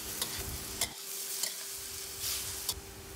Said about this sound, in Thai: ผัดจนกว่าผักจะสุกนะคะ